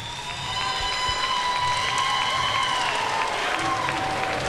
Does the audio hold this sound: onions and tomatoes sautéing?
no